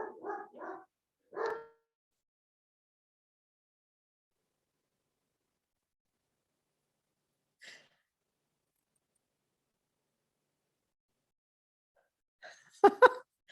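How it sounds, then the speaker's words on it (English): A dog barks in a quick burst of three or four sharp woofs, then a single louder bark after a pause, and later a brief yelp, close by in an otherwise quiet indoor room. "I have a dog."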